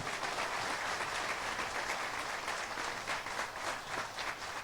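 Sustained, dense applause from an audience at a Telugu political rally on social justice, steady and loud throughout, with no talk over it.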